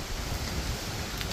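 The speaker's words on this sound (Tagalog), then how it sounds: "Lakas ng hangin." Loud, steady wind buffeting the microphone during a guava harvest outdoors, a dense rushing roar with no pauses.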